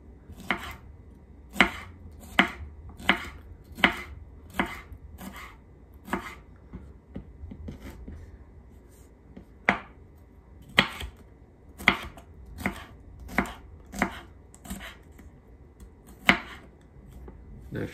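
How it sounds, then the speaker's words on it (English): A knife slices half a bell pepper into strips on a cutting board, giving a steady run of sharp, close chopping taps, about twenty in all, with a brief pause midway and no talk. "so we're just gonna cut strips in it"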